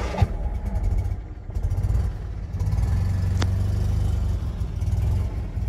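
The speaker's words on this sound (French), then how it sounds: "Démarre au quart de tour." A 1972 Fiat 500 engine cranks and starts, then settles into a steady close-up running idle that holds for the rest of the clip.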